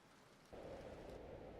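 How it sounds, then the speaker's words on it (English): Rain ambience used as a moody game soundtrack layer, a soft steady broadband wash that begins abruptly partway in after near-silence and holds evenly to the end. "Rain, can't go wrong with rain."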